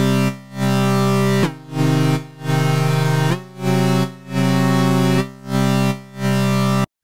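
Synth chords from the KORG Gadget Wolfsburg pump rhythmically under side-chain compression, swelling and ducking in a regular beat while the chord shifts a few times, loud and with no voices.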